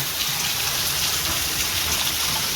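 Heavy rain pours down in a steady, dense hiss, an even wash of falling water with no voices or breaks.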